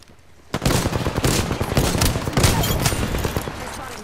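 Rapid gunfire in Apex Legends rattles in a dense, continuous volley from about half a second in, loud and close, with a voice speaking faintly underneath.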